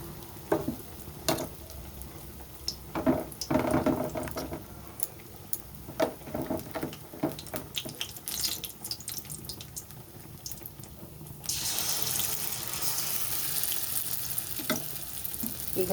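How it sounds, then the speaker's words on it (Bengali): Pumpkin leaf chops frying in hot oil give a steady, close sizzle throughout, punctuated by clinks and stirring knocks, with the sizzling swelling louder toward the end. "এইভাবে আমি একে একে সবগুলোই ভেজে নেব"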